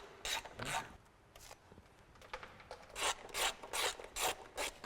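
Oil pan bolts being undone on the gearbox of a 1986 Range Rover, a series of rasping, ratcheting tool strokes in short close bursts with quiet pauses between.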